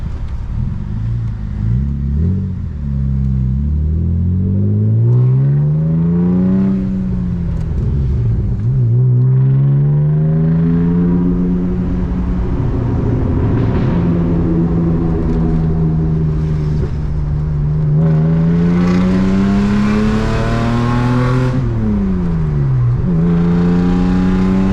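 A very loud BMW E36 accelerates hard onto a highway, its engine droning close and steady with rising and falling pitch through the gears, a raspy exhaust roaring continuously throughout.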